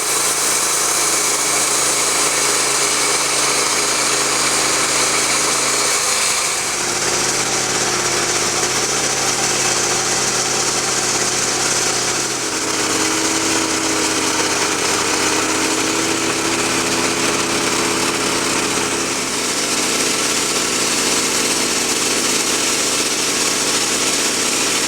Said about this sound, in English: I'll take a 3-inch slab out the center, boxing in that pith.